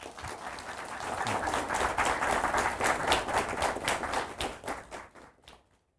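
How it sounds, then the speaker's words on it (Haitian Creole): Applause from an audience, swelling quickly into steady clapping for several seconds, then fading out to silence. "Madame, monsieur, on l'applaudit."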